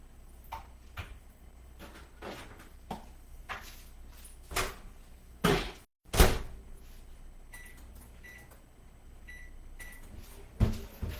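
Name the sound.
microwave melting softened butter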